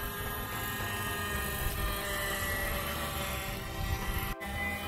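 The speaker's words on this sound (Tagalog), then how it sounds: "Saan yung helicopter? Ayun yung helicopter." A radio-controlled model helicopter flies at an RC flying field in Quezon City, Philippines, giving a steady, continuous rotor and motor buzz at moderate distance that holds evenly throughout, with a brief dip near the end.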